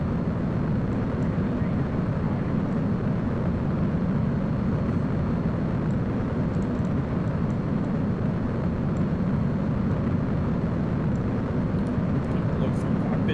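Steady, dense rocket engine roar during ascent in Kerbal Space Program, a constant broadband rumble with no letup, moderately loud, with a few faint clicks on top.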